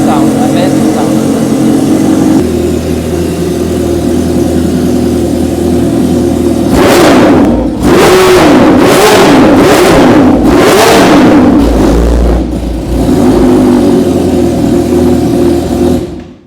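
A Kawasaki H2R motorcycle idling loudly in a closed, echoing space, then several sharp revs climbing and dropping in quick succession, with someone talking over the engine throughout.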